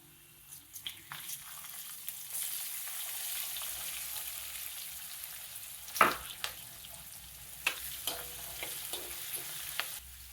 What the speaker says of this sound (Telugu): ఈ ఉల్లిపాయ ముక్కలు కొద్దిగా ట్రాన్స్పరెంట్ అయ్యే వరకు వేయించుకుని